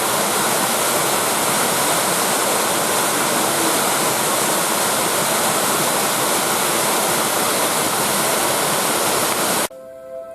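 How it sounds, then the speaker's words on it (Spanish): A waterfall roars loud and steady, a dense broadband rush of falling water close by that holds unbroken for nearly ten seconds, then cuts off abruptly to near silence with faint tones at the very end. "Espero que les haya gustado la cascada que les filmé ahora."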